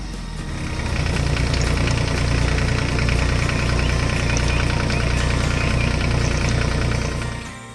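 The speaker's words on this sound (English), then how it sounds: "The blue tractor is doing a wonderful job sweeping the floor." A small blue tractor's engine runs steadily while sweeping a floor, a loud droning hum that fades in, holds, and fades out with no voices.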